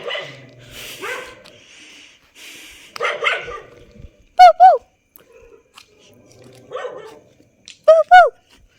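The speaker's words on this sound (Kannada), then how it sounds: "ನಮ್ಮ ನಾಯಿಗಳು ಬೊಗಳುತ್ತಿದ್ದಾವೆ" Dogs at a home at 3:30 at night bark close and loud in short doubled bursts, with whimpers and yips and a person talking between them.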